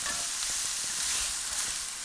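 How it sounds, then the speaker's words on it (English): Finely minced red onions sauté in fat, giving a steady, dense sizzle with faint stirring scrapes throughout. "Into this goes 2 large red onions finely minced, and just go about getting it soft and"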